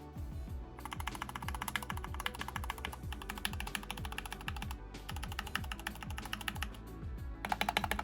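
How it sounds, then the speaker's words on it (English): Keystrokes on a Kemove Snowfox 61 mechanical keyboard with Gateron red switches and PBT keycaps: quick, continuous typing with crisp, evenly spaced clacks, close and alone, pausing briefly a couple of times. "I've also gone with Gateron red switches, so we'll do a little sound test for you here."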